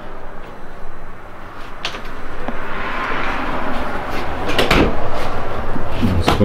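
A pantry cupboard door in a Montana fifth wheel RV is handled, giving a couple of soft knocks and clacks over a loud, steady rushing background.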